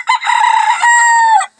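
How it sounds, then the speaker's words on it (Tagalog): A rooster crows once, loud and close, a strained, drawn-out call lasting over a second before cutting off into silence. "Tingnan nyo mga kaidol yung mga manok ko mga kaidol."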